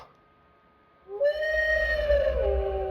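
A synthesized wolf howl plays from the Halloween update on a Rivian vehicle, rising after a brief quiet into a sustained, clear tonal howl that falls slightly at the end.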